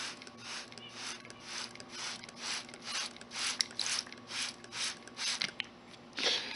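A spray bottle hisses in a steady series of short bursts onto a scenic grass mat, about a dozen pumps in a regular rhythm, close by.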